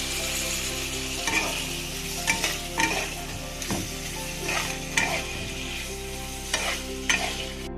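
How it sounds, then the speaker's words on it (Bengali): Ground onion, ginger, garlic and tomato paste is stirred in a hot pan for a home-style chicken curry, a steady close sizzle punctuated by regular scraping strokes of a spoon, with no speech. "এবারে এটাকে দিয়েও আমি কিছুক্ষণ নাড়বো।"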